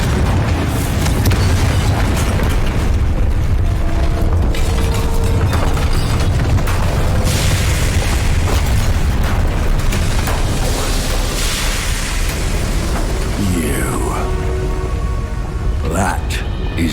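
Confringo fire spell explosions go off in Hogwarts Legacy amid a dense, loud battle din of repeated booms and crackling bursts, with voices heard over the chaos.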